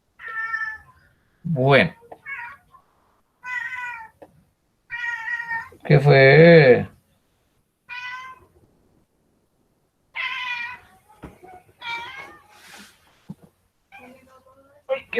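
A pet cat meows repeatedly, several drawn-out meows with one loud, long wail in the middle, close by, while someone talks intermittently between the cries.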